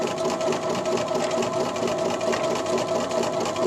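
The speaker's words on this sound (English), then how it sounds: "So we're going to zigzag all the way down." Sewing machine running a steady zigzag stitch along fabric, a continuous close mechanical whir with a fast even rhythmic clatter throughout, no talk.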